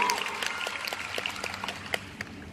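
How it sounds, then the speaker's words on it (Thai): The audience at a fan meeting in Bangkok claps, a fairly quiet patter of scattered hand claps with a few sharper individual claps standing out. "ปรบมือดัง"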